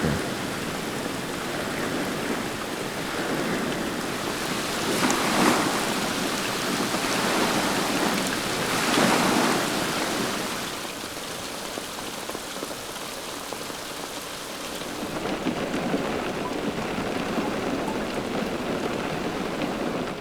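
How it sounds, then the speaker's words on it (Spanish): Torrential rain falls heavily and steadily on a campsite in Albania, a dense, constant roar of drops at close range with no voices. "La lluvia torrencial continuó cayendo con fuerza"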